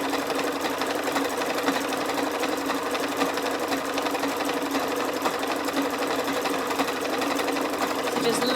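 A sewing machine runs steadily, sewing a zigzag stitch, its rapid needle stitching making a continuous even whirring and ticking rhythm.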